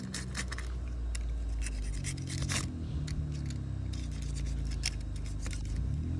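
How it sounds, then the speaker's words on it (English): A razor blade cuts through material during a boat transom replacement, making close, scratchy scraping strokes in irregular bursts over a low background rumble. "So that razor blade will cut it."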